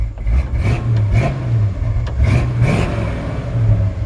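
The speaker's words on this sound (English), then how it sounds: "But really aggressive exhaust," A 1965 Ford F100 pickup with a deep, rumbling aggressive exhaust idles loudly nearby and is revved in several quick blips, the growl rising and falling.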